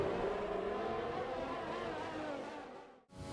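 Steady engine drone from an F1 2020 video game car with a failing gearbox and no drive, coasting along a straight, with a smooth humming pitch that slowly drops and cuts out briefly near the end.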